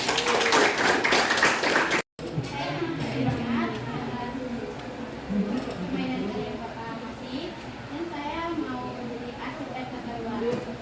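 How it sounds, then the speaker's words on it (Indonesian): An audience at a school teacher-training session claps hands in a brief burst of applause at the start, then quieter talk with a few scattered claps follows. "Oke, kasih tepuk tangan ya."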